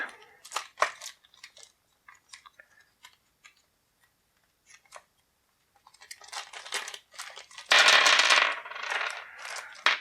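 A set of dice from the Conan board game clicks and clatters as it is handled, with sparse light taps giving way to a louder rattling tumble near the end.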